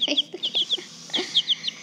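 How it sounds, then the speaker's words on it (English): Chickens cluck and chirp close by in a quick series of short, high-pitched calls, with soft rustling between them. "we actually did buy chickens"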